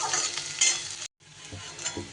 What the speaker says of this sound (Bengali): এবার একটু মশলাটাকে এইভাবে নাড়িয়ে চাড়িয়ে ভেজে নিতে হবে।